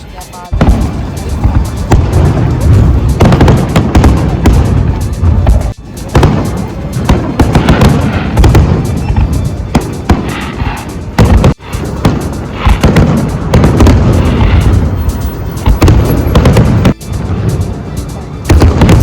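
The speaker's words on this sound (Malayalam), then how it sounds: "ഇപ്പോഴത്തേക്ക് നമുക്ക് ഫയർ വർക്ക്സ് ഒക്കെ സ്റ്റാർട്ട് ആയിട്ടുണ്ടായിരുന്നു നാഷണൽ ഡേ സെലിബ്രേഷൻ്റെ" National Day fireworks at Global Village in Dubai: a dense stream of loud booms and sharp cracks keeps going, with crowd noise and voices mixed in underneath.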